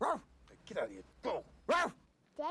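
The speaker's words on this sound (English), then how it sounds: "is that a dog? Yeah, that's a dog." A dog barks and yips several times in short bursts, close and clear, with voices talking between and over the barks.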